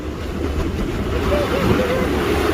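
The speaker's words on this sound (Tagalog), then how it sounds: "Mga balod sa dagat." Sea waves wash steadily along the shore at Hornsea Beach in England, a continuous broadband surf with wind buffeting the microphone throughout.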